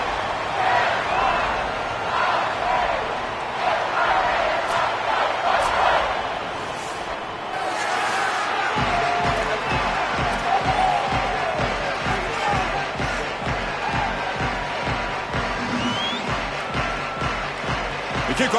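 A home crowd roars steadily at a college football playoff game, a dense, unbroken wall of noise with voices mixed through it and a rhythmic thumping pulse coming in during the second half.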